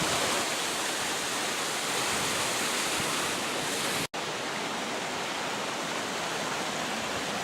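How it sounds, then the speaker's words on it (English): Steady, loud rush of falling water from a waterfall in a botanical garden, a continuous broadband roar filling the scene with only a momentary dropout partway through. "The waterfall garden."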